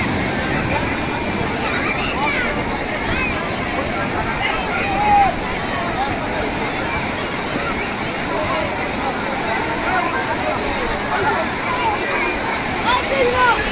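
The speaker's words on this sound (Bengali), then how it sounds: "দেখুন বন্ধুরা ঢেউটা আসছে দেখুন কীরকম দেখছেন ঢেউটা আসছে" Sea waves rolling in at Digha beach, a continuous loud wash of surf with a crowd murmuring on the shore and someone talking over it throughout.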